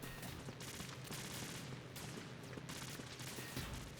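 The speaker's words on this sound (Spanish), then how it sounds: "Se escuchan disparos, creo que ese es el boss" Bursts of gunfire in Metal Gear Solid 2: Sons of Liberty, a sustained fusillade of rapid shots rolling on without letup, heard at a moderate distance over game ambience.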